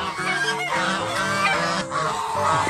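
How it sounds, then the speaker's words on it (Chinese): Several geese honk loudly and continuously in the animal area of a farm park, a dense overlapping chorus of nasal calls close by with no talking. "这是一些鹅在那边叫"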